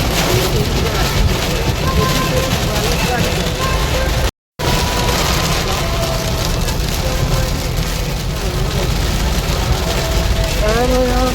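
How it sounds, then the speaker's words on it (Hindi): Heavy monsoon rain pours down in a windy storm, a loud dense hiss filling everything, with a voice speaking faintly underneath the downpour. "भयंकर बारिश हो रहा है"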